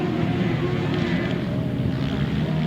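Grasstrack racing motorcycle engine at a championship meeting, a continuous droning whine that holds steady at moderate distance, with a faint shift in pitch as it passes.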